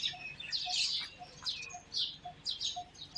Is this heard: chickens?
yes